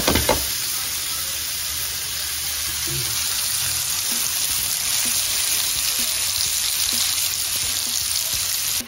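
Knob of butter melting in a hot pan with garlic prawns, a steady close sizzle and fine crackle running the whole time, with a few soft scrapes of stirring.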